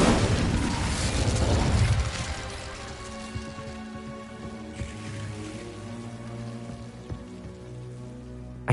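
A whooshing burst of the Incendio fire spell in Hogwarts Legacy, a loud roaring rush for about two seconds that fades into a steady crackling hiss with faint pops.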